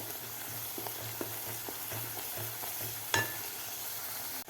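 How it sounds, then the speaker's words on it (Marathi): Spice masala for a jackfruit curry is sautéed in a pan, a soft, steady sizzle with regular scraping stirs and one sharper clink near the end, fairly quiet and without speech. "2 मिनिट आपल्याला हा मसाला परतून घ्यायचा आहे."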